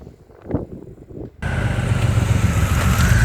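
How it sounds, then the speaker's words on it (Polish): A Honda Africa Twin motorcycle engine suddenly roars up close after a quieter moment on a mountain trail in the Vosges, France, holding a loud, steady drone with a rising whine as it passes. "Honda Africa Twin, przepiękny motocykl"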